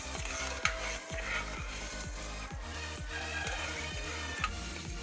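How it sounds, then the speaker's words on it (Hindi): Sugar and cardamom are stirred into syrup in a pot for gulab jamun, a spoon scraping in a steady repeated rhythm against a faint sizzle, close and fairly quiet. "अब इसको अच्छे से मिक्स करते हैं, इसका सीरा बनाते हैं।"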